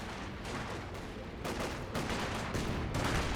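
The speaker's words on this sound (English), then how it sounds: "Panzerwerfer barrage. That seems like going to be a deadly barrage." A Panzerwerfer rocket barrage in Company of Heroes 2 pounds away as a dense, continuous roar of overlapping blasts and crackling explosions, loud and sustained throughout with no pauses.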